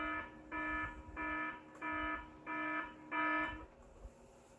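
An alarm sounds in loud, evenly spaced beeps, six tones of about half a second each repeating steadily and close by, then stopping, with no talking.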